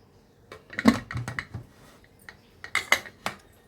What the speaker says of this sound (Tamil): குக்கரை மூடிடுறேன், மூடி வேக வச்சிடலாம்.